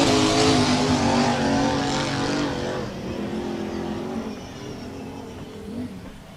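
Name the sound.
racing power boat engine on the river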